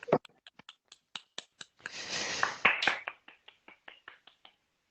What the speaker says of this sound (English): I just want to lead a little round of applause here